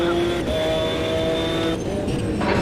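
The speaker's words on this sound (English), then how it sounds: "There's one green McLaren coming in very fast." A green McLaren GT1 race car in Automobilista 2 at the Cleveland circuit, its engine droning loudly and steadily as it closes in fast, with a rising pitch near the end.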